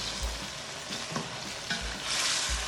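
Ground, browned yogurt and onion are added to chicken korma and stirred in a frying pan, producing a dense, continuous sizzle with soft low scrapes and stirring thumps close up.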